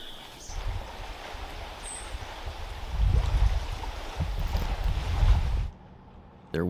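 A tour boat's engine rumbles low across open water on a lake at Waterton, building in the middle and fading, with lapping water and light wind throughout.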